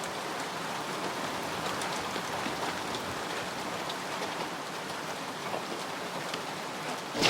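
Rain pours steadily on a night film set, a continuous broadband wash of drops on surfaces, even and fairly close for several seconds, with a brief louder rise at the very end.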